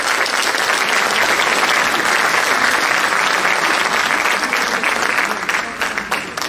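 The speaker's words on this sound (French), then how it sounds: "Sur vos chaleureux applaudissements, on va accueillir ensemble coach Mariam Lydia Bestes" Warm audience applause welcoming a coach onto the stage at a conference, a loud, dense, sustained roar of clapping that holds steady before tapering off near the end.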